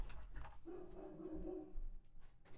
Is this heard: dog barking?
yes